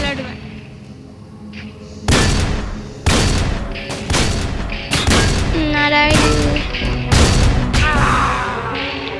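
Gunfire in a Roblox shooting game, several sharp loud shots and booms in quick bursts at close range, mixed with game effects and people talking over the action.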